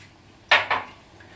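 A utensil clinks twice against a bowl while cider vinegar is stirred into yogurt, two sharp, close taps followed by quiet.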